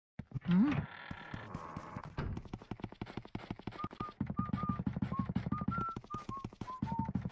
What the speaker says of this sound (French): Puis un petit sifflotement de Luigi quand la pièce est nettoyée.